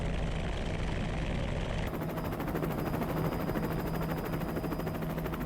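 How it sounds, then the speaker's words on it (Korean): Helicopter flying toward the planned second Jeju airport site, a dense, continuous rotor chop and engine drone heard from inside the cabin, loud and steady throughout. "제2공항 예정지를 향해 날아가는 헬기"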